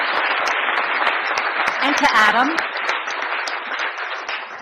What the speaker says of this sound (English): give a big round of applause for the Transportation Secretaries and the Director here